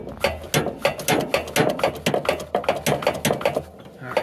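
Rapid metallic clicking and knocking while a seized clevis on the linkage of a Cat 983B loader is worked free, a steady run of sharp, evenly spaced taps at close range.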